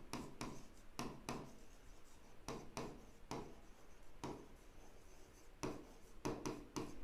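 Pen scratching out a packing charges account entry in a petty cash book, a quiet rasping scrawl broken into short strokes with brief pauses, close and faint with no talking.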